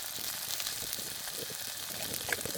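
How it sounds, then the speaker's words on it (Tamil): Crushed ginger and garlic fry in hot oil with a soft, steady sizzle, close by and fairly quiet, with small crackles scattered through. "அந்த பச்சை வாசனை போக இந்த எண்ணெயில் வதங்கட்டு."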